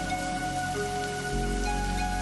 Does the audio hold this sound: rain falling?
yes